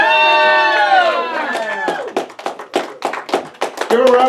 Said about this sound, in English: Give a round of applause for Patty Beccarella, the leopard lady of comedy